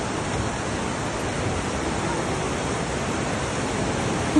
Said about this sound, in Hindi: ये झरने की आवाज़ है